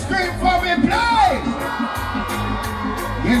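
A concert crowd of women screaming and cheering at a reggae performance, loud whoops and yells mixed with a shouting voice and band sound.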